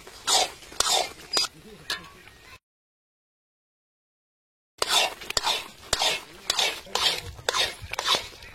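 Bread halwa being stirred in a pot with sprinkled cardamom, a spoon scraping and clinking in quick repeated strokes, broken by a short silent gap, with soft talk in the background.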